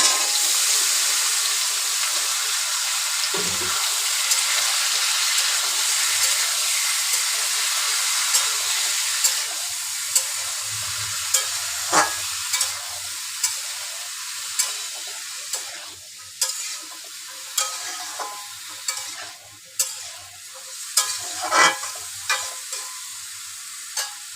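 Mixed vegetables fry in a pan, giving a bright steady sizzle, with repeated clinks and scrapes of stirring that grow more frequent toward the end.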